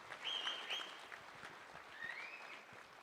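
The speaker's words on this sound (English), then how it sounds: "Let's give them all one more round of applause." Applause at an annual alumni banquet, soft scattered clapping from the room, with a couple of high whistles cutting through near the start and again toward the end.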